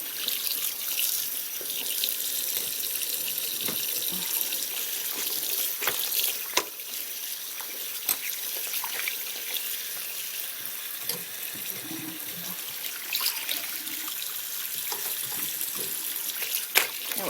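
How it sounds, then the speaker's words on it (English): Cool tap water runs steadily from a faucet into a sink, rinsing soap out of a finished cross stitch project, with a continuous close splashing stream and occasional small knocks of handling. "But just some cool water. And we're going to rinse this."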